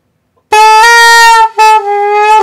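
Overblown saxophone tone on a small beginner instrument: a loud, harsh, bright sustained note that starts abruptly, breaks off briefly, then resumes, with no voices.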